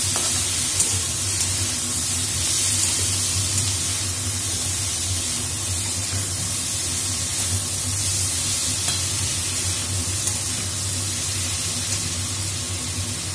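Sliced onions frying in a pan for chilli paneer, with a steady, close sizzle and hiss that hold evenly throughout without pause.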